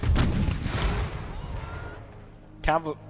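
Artillery in a Civil War video game firing round shot: a loud, booming discharge near the start, then a quieter stretch, with another short burst near the end, while a voice talks over the action.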